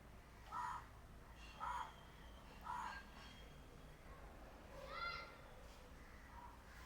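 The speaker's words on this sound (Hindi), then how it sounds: "काला कौवा हमेशा आ जाता है।" A black crow caws outdoors, three evenly spaced calls followed by a fourth, fairly faint against a soft steady background hum.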